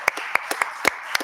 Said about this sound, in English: A round of applause for them because they really stand behind everyone.